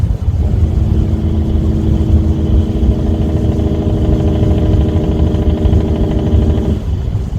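A loaded truck's Jake brake (engine brake) rumbles loud and steady on Highway 407, a continuous low droning chatter that holds for several seconds before cutting off near the end.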